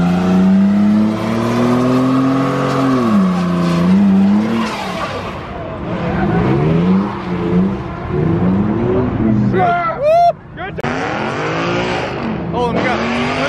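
A Dodge Challenger Hellcat revs hard and rumbles while leaving a Cars and Coffee meet in Houston, its tires squealing in a brief burnout. Loud engine tones rise and fall under chatter and shouting from the crowd nearby.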